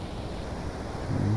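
Flowing river water in the video game Skyrim, a steady broadband wash like surf or wind that holds constant throughout and swells slightly near the end, with no voices.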